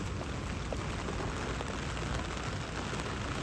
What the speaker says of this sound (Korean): 비가 너무 많이 와서